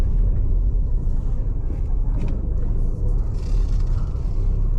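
A petrol car running on E20 fuel pulls away gently with the air conditioning on, giving a loud, steady low engine rumble heard from inside the cabin without speech.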